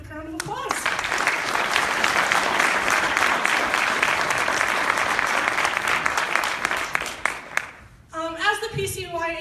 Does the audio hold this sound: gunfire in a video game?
no